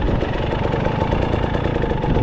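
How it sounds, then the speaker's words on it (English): A 2023 KTM 300 XC TBI two-stroke dirt bike engine revs high and hard, a buzzy, continuous, close engine roar with no talking. "The bike revs even higher, it seems."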